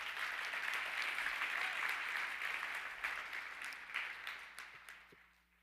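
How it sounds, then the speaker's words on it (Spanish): A church congregation applauds in a sustained wash of clapping that holds steady, then fades away over the last second. "Denle un aplauso a Jesús."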